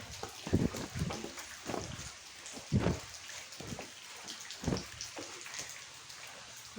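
Heavy rain falls outside in a steady soft patter, heard faintly from indoors, with brief louder splashes and drips scattered irregularly through it.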